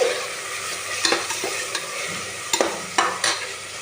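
Chopped tomatoes sizzling in a hot pan for a restaurant-style chicken tikka biryani, with a steady fry hiss punctuated by several sharp scrapes and taps of a spoon stirring.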